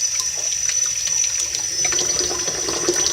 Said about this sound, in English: I like to rinse the soap out.